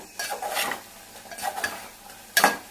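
Cooked curry is scooped out of a pan into a bowl, giving a few short scraping and clinking spoon strokes against metal, with a sharper louder scrape near the end and no talking.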